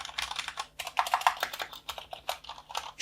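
Typing on an AOC GK700 mechanical keyboard with linear Cherry MX Red switches, a fast irregular patter of soft, close clicks and key bottom-outs with short pauses, fairly quiet and without talk.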